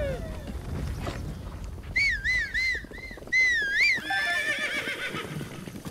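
A horse whinnies in repeated rising-and-falling cries, loud and close, after being hit, over a background of hoof clatter and ambient rustle, in The Legend of Zelda: Breath of the Wild.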